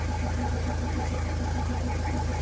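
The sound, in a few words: Toyota BJ40 diesel engine idling after cold start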